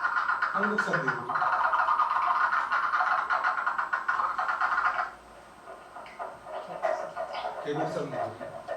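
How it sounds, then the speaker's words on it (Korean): Korean brown frog calling in repeated bursts of rapid croaking notes, fairly close and loud, with a continuous wash of other background sound beneath. "한국산개구리."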